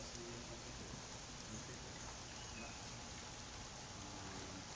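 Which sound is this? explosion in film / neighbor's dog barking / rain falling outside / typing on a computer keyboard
rain falling outside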